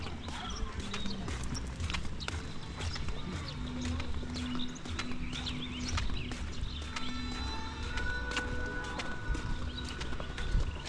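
Hooves of a carriage horse clip-clop in a steady rhythm on a street in Sapa, Vietnam, moderately close, with birds and faint voices in the background.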